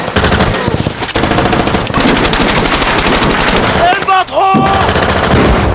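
Machine-gun fire rattles through an intense film firefight between a SWAT team and militants. The bursts are dense, loud and continuous, with a few whistling and ricochet-like tones near the end.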